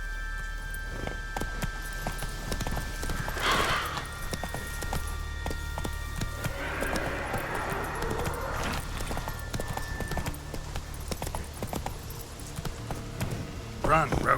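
Roach the horse galloping in The Witcher 3, rhythmic hoofbeats thudding over ambient game sound and music, with voices speaking over the top.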